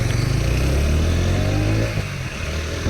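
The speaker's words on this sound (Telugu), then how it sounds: "ఎగ్జాస్ట్ నోట్ సౌండ్ చూడండి ఫ్రెండ్స్, చాలా బాగుంది అసలు." A TVS Apache 160 4V motorcycle's exhaust note, a loud, close engine drone that holds steady, then eases slightly near the end.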